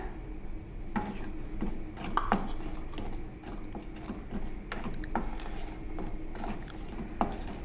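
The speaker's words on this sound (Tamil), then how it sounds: "இப்போ இதே கடாயில் நான் எடுத்து வச்சுருக்க அரிசி மாவை வறுத்துக்கிறேங்க" Rice flour dry-roasted in a kadai, soft scraping and occasional metallic clinks of a spatula against the pan, close but fairly quiet, with no sizzle.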